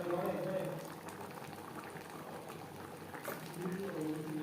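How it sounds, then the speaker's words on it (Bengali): Pabda fish simmering in a pea gravy gives a soft, steady bubbling close by, with a voice talking faintly over it. "গ্রেভির সাথে মাছ আরও তিন চার মিনিট রান্না করব"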